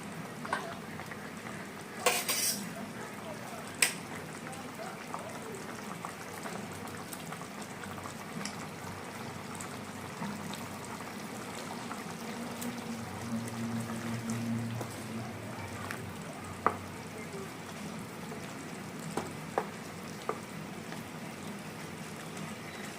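Tilapia pieces go into a pan for a thin curry with potato and eggplant, setting off steady boiling and bubbling with a few sharp clinks and stirring sounds throughout, moderately loud and close.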